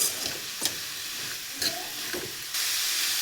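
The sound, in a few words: hyacinth beans (avarekai) sizzling while frying in a pan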